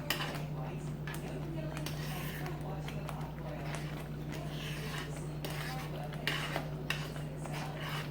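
Food being stirred in a pan while making a Mexican-style breakfast with chili powder, giving soft, continuous scraping and utensil clinks over a steady low kitchen hum.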